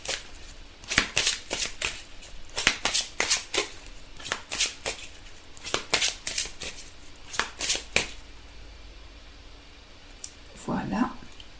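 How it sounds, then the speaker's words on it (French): Angel oracle cards being shuffled in a rapid run of crisp riffling bursts, close and fairly loud, then a single card is drawn with a brief soft rustle at the end. "Alors, on tire une carte des anges."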